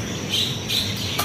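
Perkutut doves and other birds call at a bird kiosk in Condet, East Jakarta: soft repeated chirps and calls over a steady hiss of background noise, with no speech.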